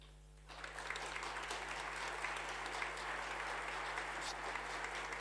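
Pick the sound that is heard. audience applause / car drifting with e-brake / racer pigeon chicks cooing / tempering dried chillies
audience applause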